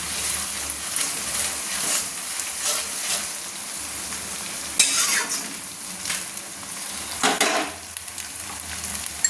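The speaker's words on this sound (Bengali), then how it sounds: "এবার আমি দিয়ে দিচ্ছি আদা বাটা, আদাটা বেটে রেখেছিলাম, দিয়ে দিলাম। একটু নেড়ে নিচ্ছি।" Ginger paste fries in a pan for mutton kosha, giving a busy sizzle with repeated scraping and stirring strokes of a spoon against the metal, and a few sharper clanks along the way.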